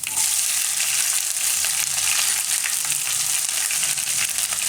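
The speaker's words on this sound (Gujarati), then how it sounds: "અને તેલ આપણું ગરમ થઈ ગયું છે. તો એમાં પહેલાં જીરું નાખીશું અને મરચાં" Cumin seeds and chillies hit hot oil in a pan, giving a loud, dense, continuous crackling sizzle that holds steady from start to finish with no talking.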